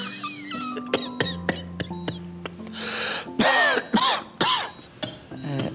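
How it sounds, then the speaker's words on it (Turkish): A person coughs several times in short bursts, with throat clearing, a moaning voice and a sustained tonal background in a Turkish-language town doctor scene. "Öksürüğünüz ne zaman başladı?"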